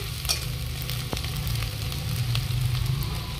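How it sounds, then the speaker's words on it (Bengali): Chopped onion and chilli fry in hot oil, giving a steady close sizzle and crackle with occasional stirring scrapes. "পেঁয়াজ লঙ্কাটা আমি ভেজে নিয়েছি।"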